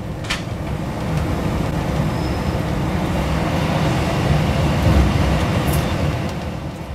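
A passenger train rolls slowly toward a parking track after the end of its route, giving a steady, loud rumble of wheels and carriages with a low drone and faint squeaks, and no voices.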